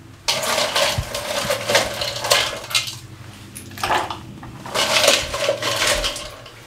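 Ice cubes clatter and clink into a jug of cucumber, mint and lime juice, several bright rattling bursts separated by short pauses, close and moderately loud with no talking.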